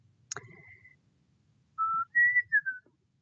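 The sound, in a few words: person whistling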